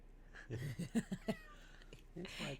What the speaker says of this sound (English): Can you guys hear his little mews?